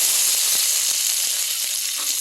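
Dried red chillies frying in oil in a pan, a dense steady sizzle with faint small pops throughout.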